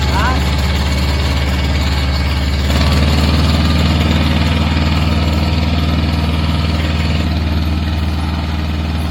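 A John Deere tractor's engine runs steadily and loudly while pulling uphill, a constant low rumbling drone with a slight rise in effort partway through, close up and without talk.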